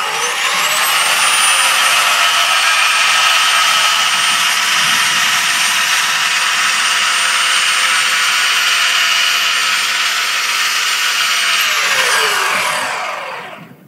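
Ryobi 40-volt battery-powered outdoor machine with a push-button and bale start, spinning up to a loud steady electric whine with a high motor tone, running evenly close by, then winding down at the end.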